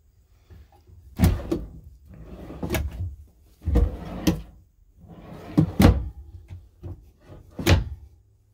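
A stiff new wardrobe door in a travel trailer is tugged open and shut repeatedly, giving several loud close thumps, scrapes and rattles spaced irregularly with quiet gaps between, with no talk.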